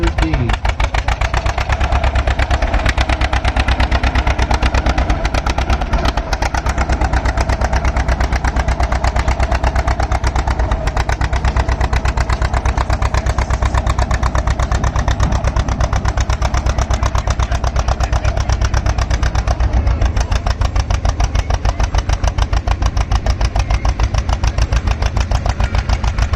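A John Deere tractor engine pulls hard at a tractor pull, a loud, steady, buzzing drone that holds throughout with no breaks.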